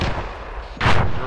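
Gunfire in the military video game ArmA 3, a single sharp report cutting through steady battlefield noise, with a voice talking nearby.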